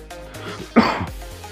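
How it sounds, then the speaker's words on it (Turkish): A single sharp cough bursts out over quiet background noise, brief and close, with a low hum continuing around it. "abi bir haftadır öksürüyorum ya"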